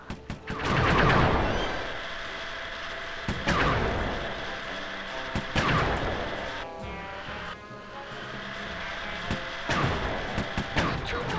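Vehicle-mounted turret fire in Sly 3: Honor Among Thieves, heavy booming shots repeating every couple of seconds over a constant loud rumble of game action and engine noise.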